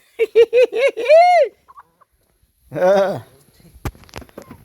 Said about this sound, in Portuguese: Garnizé aí, ó.